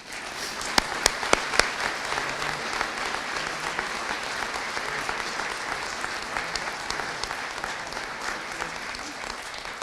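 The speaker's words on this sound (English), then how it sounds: "Please join me in applauding this group for their hard work and efforts." Audience applauding a police explorers group at a 2019 police services awards ceremony, with steady sustained clapping from a crowd and a few sharp louder claps near the start.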